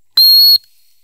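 A single short, shrill blast from a training whistle during a retriever dog training session outdoors on land, sharp and loud, lasting under half a second with no talking.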